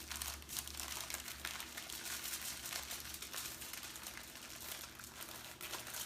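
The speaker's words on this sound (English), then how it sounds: "roll it in your aluminum foil." Heavy-duty aluminum foil being rolled and crinkled around a vegan sausage gives a close, steady, dense crackling that continues throughout with no talking, set against a low background hum.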